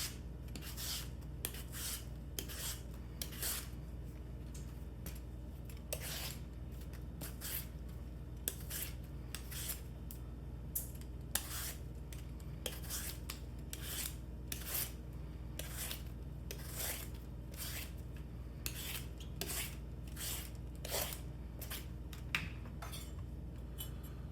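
A knife working through the tough stem of an Armenian cucumber, heard as a long series of close, quiet, regularly spaced scraping and slicing strokes with no voices.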